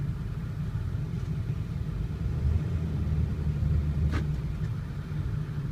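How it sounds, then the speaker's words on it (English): A 2002 Ford F350 4x4 diesel Lariat put in drive in four-wheel low, a steady deep engine rumble and idle throb filling the whole stretch, close and loud, with a brief faint clunk partway through. "Okay, let's go to 4 low. All right, let's see. Put it in drive."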